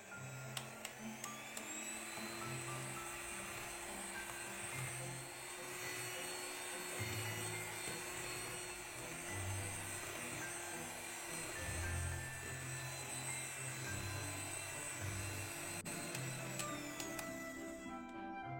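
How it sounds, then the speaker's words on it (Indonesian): Electric mixer running at high speed through batter for a baked pandan sponge cake, a loud, steady whirring motor drone that holds unbroken for the whole stretch and cuts off near the end. "Kemudian mixer dengan kecepatan tinggi sampai putih, kental, dan berjejak."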